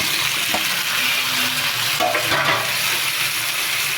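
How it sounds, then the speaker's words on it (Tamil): Drumstick pieces for murungakkai kootu fry in a pan while being stirred, a close, steady sizzle broken by scraping strokes of the spoon, with no talk. "இப்போ நல்லா கிண்டிக்கிறேன்."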